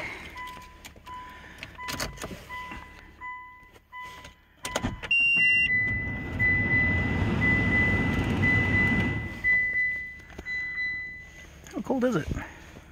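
2014 Mitsubishi RVR cold starting at -21 Celsius: door chimes and clicks, then the engine cranks and catches into a rattly idle with a high whine, voices talking at the start and end.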